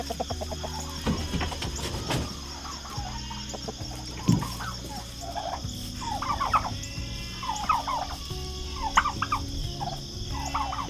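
Broad-breasted turkeys gobble repeatedly in a morning coop, with rippling calls coming in several bursts near and farther off over a constant hum, alongside some chicken clucks and no talk.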